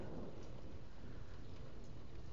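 Steady, dense rain pours during a thunderstorm, with a low rumble of thunder beneath a constant hiss. It is fairly quiet and there are no voices.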